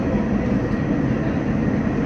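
A Rockaways nostalgia train runs on the rails, heard from the rear cab as a loud, continuous rumble of wheels and carriages with no voices.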